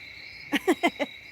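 A cricket in a garage gives four quick, evenly spaced chirps, clear and close, over a faint steady hum.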